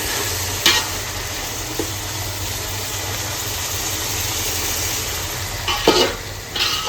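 Something fries lightly in a pan with a constant hissing sizzle, a few brief utensil clanks near the start and near the end, and no talking.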